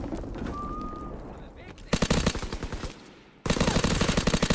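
Rapid bursts of submachine gun fire in a World War II–style video game, two sustained rattling volleys after a noisy lead-in, loud and close with a voice talking over them.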